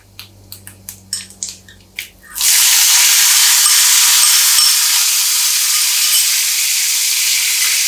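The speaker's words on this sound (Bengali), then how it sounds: "জিরের একটা সুন্দর গন্ধ বেরিয়ে এলে প্রথমেই দেব টমেটো কুচি।" A few sharp knocks, then chopped tomato hits hot oil with whole cumin in a pan and bursts into a loud, steady sizzle that holds to the end.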